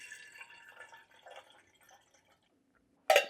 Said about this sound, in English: So I'm going to get some water in here and we're going to get it boiling.